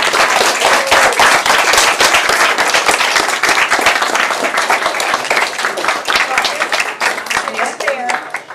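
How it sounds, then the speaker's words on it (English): An audience at a school board meeting applauds award winners, with dense, sustained clapping from many hands filling the room at a loud, steady level throughout. "Can we give them a round of applause?"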